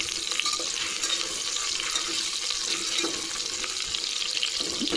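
Potatoes frying in a pan for an aloo chicken curry, a steady hiss of oil with faint stirring scrapes throughout, fairly close and continuous with no talking.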